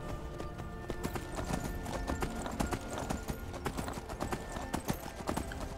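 Horse hooves clip-clop steadily in the video game Skyrim, a brisk even rhythm of sharp hoof strikes close by over a dense game soundscape, alone without talk.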